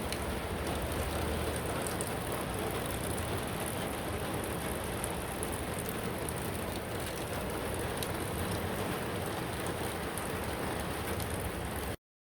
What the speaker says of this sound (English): 12:38 and it started to rain. Regular rain.